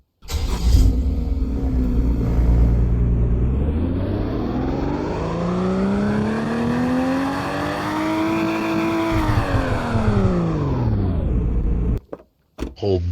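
A Toyota Supra engine in a Roblox driving game revs from idle up through a long climbing rise to high RPM, holds briefly, then falls back down, loud and up close, ending with a short cut-off and sputter.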